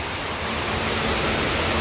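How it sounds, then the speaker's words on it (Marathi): Steady rain pours down in Malaysia in a dense, even hiss, close and unbroken, with no voices. "मलेशियामध्ये पाऊसच पडतो आहे"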